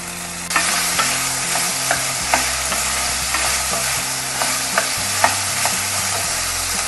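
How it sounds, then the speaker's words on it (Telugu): Tomato pieces frying for Indian-style pasta, stirred in a pan with a steady sizzle and regular scraping taps of the spoon, close up with no voices. "టమోటా ముక్కలు బాగా మెత్తబడేంత వరకు కలుపుకోవాలి"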